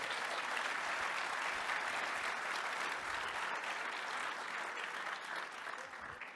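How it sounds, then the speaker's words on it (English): A conference audience at ShmooCon 2025 gives a big round of applause, a dense, steady wash of many hands clapping for the full stretch, loud and close, fading slightly near the end. "I'll tell him he got a big round of applause."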